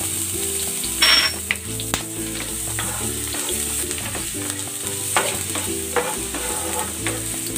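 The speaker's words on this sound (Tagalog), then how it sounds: "Maglalagay ako ng cooking oil. Igigisa ko na tong luya." Ginger sizzles and fries in hot cooking oil in a pan, with steady crackling broken by occasional stirring scrapes and clinks, close and continuous throughout with background music underneath.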